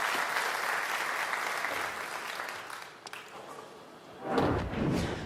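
A bowling crowd at a PBA playoff match applauds steadily for about three seconds, the clapping fading, then a few thuds and a fresh burst of claps near the end.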